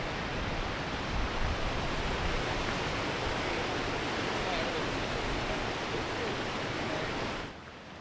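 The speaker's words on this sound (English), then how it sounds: "Look at those waves. They're like true waves. Are these going over rocks?" Ocean swells surging and breaking over rocks at a bird sanctuary coast, a steady loud wash of broadband surf noise filling the whole clip before it drops away abruptly near the end.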